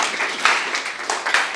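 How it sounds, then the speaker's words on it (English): A crowd claps in sustained applause at a startup pitch night, steady and dense with small swells, fairly close and with no talking over it. "just one more big round of applause for all of the people who got up and pitched"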